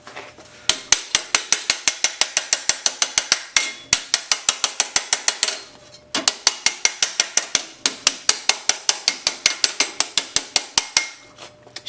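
Rapid, steady hammer blows ring on sheet metal during rust repair of a cab seat mount on a Ford F100, loud and close, in two long runs split by a short pause.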